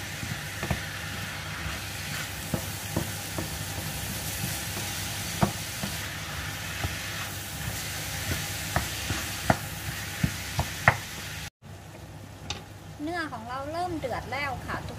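Minced meat with carrot and onion fries in a pan for pasta bolognese, a continuous sizzle punctuated by sharp spoon taps and scrapes as it is stirred. It cuts off abruptly near the end, where a voice follows.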